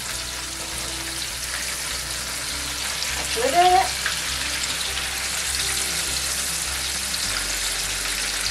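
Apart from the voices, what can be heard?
fried appetizers sizzling in oil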